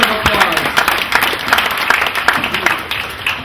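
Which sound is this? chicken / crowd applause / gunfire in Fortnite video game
crowd applause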